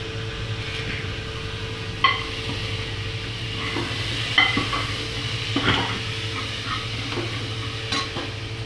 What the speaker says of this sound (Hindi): और अब हम मटर डाल रहे हैं।